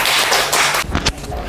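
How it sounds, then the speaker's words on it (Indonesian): Applause from a classroom audience, dense broadband clapping that is loud and close for most of the moment, thinning into a few scattered claps near the end. "Tepuk tangan yang mulia."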